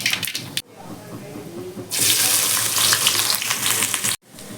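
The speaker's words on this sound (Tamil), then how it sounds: "இதில் நம்ம கட் பண்ணி வச்சுருக்க பெரிய வெங்காயத்தை ஆட் பண்ணிக்கலாம்." Chopped onions drop into hot groundnut oil with popped mustard seeds, and a loud, close sizzle suddenly flares up. It hisses steadily for a couple of seconds before cutting off abruptly.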